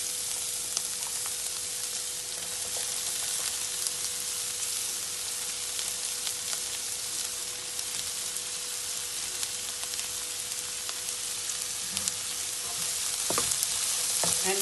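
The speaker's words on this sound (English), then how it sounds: "once your oil is heated up, add in the onions" Four medium onions fry in hot coconut oil, a constant close sizzle with fine crackles and a few stirring knocks near the end, no voices.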